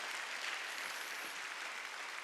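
Church congregation applauding during a Wednesday worship service, a steady wash of clapping that holds at an even, moderate level for a couple of seconds without any voices rising above it.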